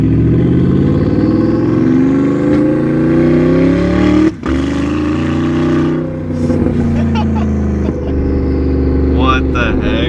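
Porsche Panamera Turbo with side exhaust revving loud and close, engine note climbing and swelling through a long rev with a sharp brief drop midway, voices talking over it.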